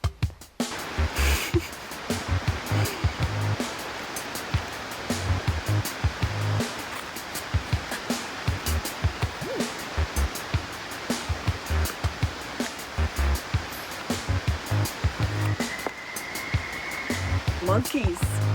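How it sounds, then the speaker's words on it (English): A woodland stream rushes continuously nearby with a full, splashing wash and occasional knocks, while voices come and go over it. "this stream of water that we see here actually leads down to that big cave"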